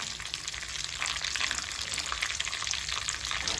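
Sev vermicelli frying in hot ghee, a dense continuous crackling sizzle that stays steady and fairly close throughout.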